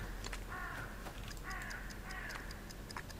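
A crow in a game caws a few times in short, harsh bursts of moderate loudness, mixed with faint ticking clicks.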